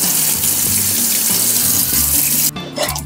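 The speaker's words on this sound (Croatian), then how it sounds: "jednostavno upalimo tekuću vodu i krenemo u ispiranje filma" Tap water runs steadily to rinse black-and-white film during home development, a loud, continuous close rush that cuts off sharply near the end, leaving a brief trickle.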